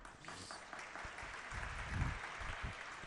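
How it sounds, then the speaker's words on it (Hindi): An audience at a Jain religious discourse claps in a loose, uneven burst, with some louder thumps and rustling mixed in and no speech over it. "आप लोगों में ताली बजाने की आदत तो पूर्ण पड़ चुकी है"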